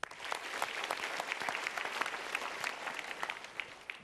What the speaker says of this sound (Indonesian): Untuk pilihan A kita berikan tepuk tangan.